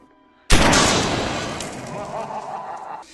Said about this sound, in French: On peut également utiliser des canons kabuki pour faire des simulations d'impact de balles